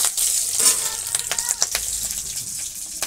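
Mustard seeds and chili sizzle and crackle in hot oil in a village kitchen pan for soybean curry, a steady bright frying hiss with scattered sharp pops, close and continuous without talk.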